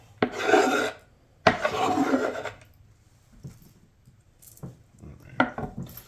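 Back of a knife scraping chopped wild vegetables and beef off a cutting board: two long, close rasping strokes followed by softer knocks and shorter scrapes, with no talk.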